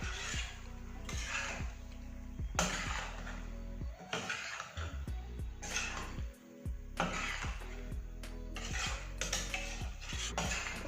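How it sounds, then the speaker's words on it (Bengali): Boiled macaroni is mixed into a masala sauce in a pan, heard as quiet, intermittent scraping and clinking of a spoon against the pan in short bursts separated by brief pauses, with no speech. "পাস্তাটার সাথে সস বলতে পারেন আমরা গ্রেভি তাকে আমরা ভালোভাবে মিশিয়ে নেব"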